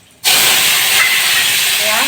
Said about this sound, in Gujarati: આ વઘાર બધા સંભારમાં નાખી દઈશું.